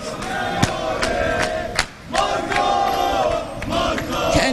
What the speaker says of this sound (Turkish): aksine tezahüratlar var taraftarlarımızdan